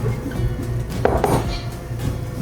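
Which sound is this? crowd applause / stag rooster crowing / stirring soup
stirring soup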